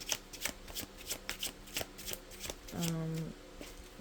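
Tarot cards being shuffled by hand, a quick series of crisp riffling flutters in an even rhythm, close and fairly soft, with a short spoken phrase near the end.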